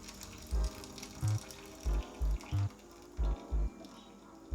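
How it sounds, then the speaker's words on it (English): Hot water from a pot used to boil an egg is poured into a sink, giving a soft steady splashing and gurgling wash under a run of repeated low thumps, fairly quiet overall. "Get rid of the hot water"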